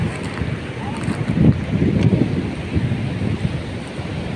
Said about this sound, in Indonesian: anginnya sudah mulai kencang